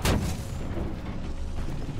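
Tank cannon fire in the War Thunder video game, with twin 37mm guns on a JU-87 G2 ground-attack aircraft: a loud boom opens the clip, then a dense rumbling roar and a second muffled report sustain throughout, with no talking.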